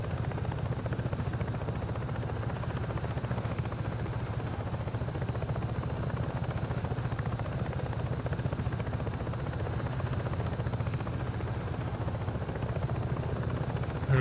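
Helicopter in Ghost Recon Breakpoint, a steady droning rotor and engine hum that holds at an even level throughout, with no voices.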